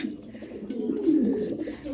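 Soft, low cooing of pigeons close by, a steady throaty burble with faint background noise.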